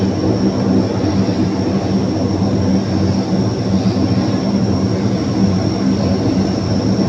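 A military aircraft taxis toward the runway, its engines producing a loud, steady roar and whine that holds constant throughout, close by with no voices.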